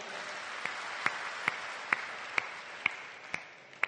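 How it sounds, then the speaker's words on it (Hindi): Audience at a Hindi poetry gathering applauding in honor of the collector, a steady wash of many hands clapping, with a few sharp, distinct claps rising out at regular intervals near the microphone. "मैं चाहता हूं पूरा सदन एक बार कलेक्टर साहब के सम्मान में ताली बजाए।"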